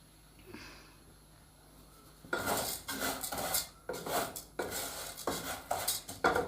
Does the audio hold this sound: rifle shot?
no